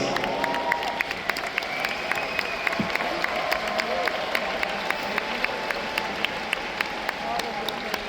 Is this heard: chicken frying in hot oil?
no